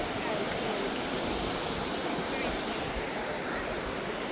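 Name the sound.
sea waves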